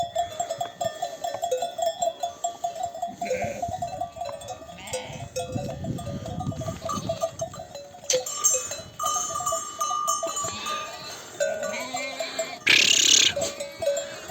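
Sheep and lambs on a mountain pasture in Bolu Mudurnu's Kovucak highland bleat at various distances over a constant jangle of bells, with a loud close bleat near the end.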